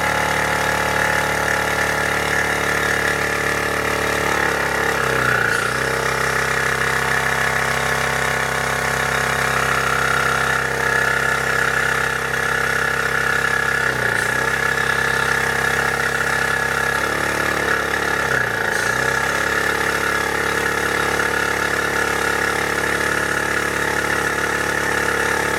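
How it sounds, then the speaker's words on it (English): A Bergmann Typhoon car tyre inflator compressor, made in Germany, runs loud and close with a continuous steady motor drone and three brief dips in pitch as it pumps. "Let's turn on the compressor. Start it filling in."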